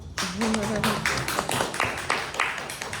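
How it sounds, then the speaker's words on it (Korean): A book talk audience gives a short round of applause, scattered claps rising and tapering over a few seconds while a voice sounds briefly near the start. "박수 한번"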